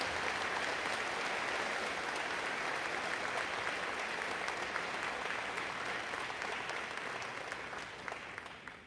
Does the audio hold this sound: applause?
yes